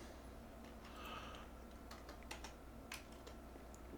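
Light, quick keystrokes on a computer keyboard, entering a web address, ticking in short uneven bursts at low volume against a faint background hum.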